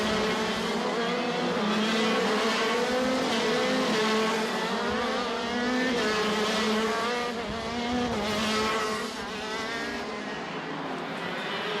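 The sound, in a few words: KZ2 racing karts during a kart race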